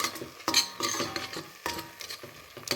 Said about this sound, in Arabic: نديرو شويه زيت البلديه وغادي نحركو مزيان